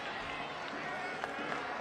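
Stadium crowd noise at an FC Tulsa versus San Antonio FC football match, a steady broad roar with brief swells of excitement, no distinct cheer or chant standing out.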